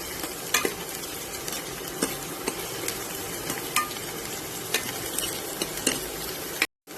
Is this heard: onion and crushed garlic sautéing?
yes